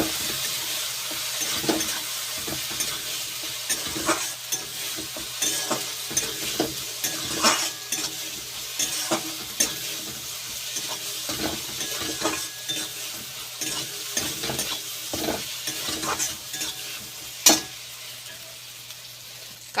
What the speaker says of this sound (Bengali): এইবার ভালো করে মশলাটা কষিয়ে নেব।